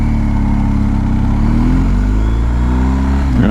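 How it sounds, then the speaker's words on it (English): BMW R1250 GSA motorcycle with its stock muffler cruising on the highway, a steady loud engine drone with strong wind roar and rising harmonics as it pulls along, no talking. "This is on BMW R1250 GSA, stock muffler. It's a quiet bike, pretty much."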